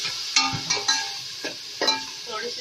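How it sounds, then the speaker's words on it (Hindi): Tomatoes and garlic-ginger paste stirred in a pan: a bright, close sizzle runs throughout, punctuated by five or six scraping knocks from the spoon against the pan, with no voices. "थोड़ी सी देर हम टमाटर को चलाएंगे, फिर हम ये सूखे मसाले डाल देंगे।"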